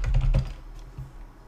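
Keys clatter on a computer keyboard in a short burst of close typing, a few quick strokes and then a couple of softer taps.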